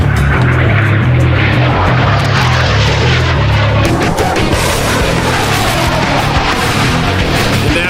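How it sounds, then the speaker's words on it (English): A new Swedish Air Force fighter jet comes in to land after a long test flight, its engine a loud, steady, continuous roar throughout with no talking. "The Swedish Air Force is breaking in their newest fighter jet."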